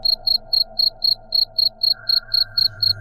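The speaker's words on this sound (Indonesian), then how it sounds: "mendengar suara jangkrik berderik" Crickets chirp at night, a sound effect for a horror radio drama: a steady pulsing series of about a dozen evenly spaced bursts, clear and close over a faint low hum.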